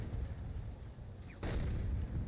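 Artillery fire in the tank combat video game GHPC: low rumbling booms roll under a steady background, with one sharper blast about midway, fairly faint overall.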